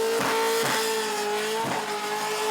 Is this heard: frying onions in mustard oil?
no